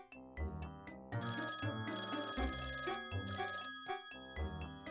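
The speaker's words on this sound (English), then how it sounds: "Something is ringing in your office." A telephone rings in a repeated electronic melody, clear and fairly close, with no voices.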